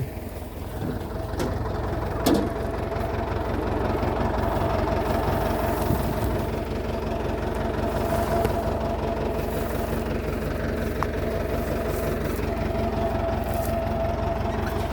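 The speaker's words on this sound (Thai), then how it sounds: "วันนี้เอารถไถมาลูดก่อนแล้วแมคโครกับหกล้อจะเข้ามา" A farm tractor clearing land runs with a steady, heavy, low engine drone that continues unbroken, with a few faint knocks and no talking.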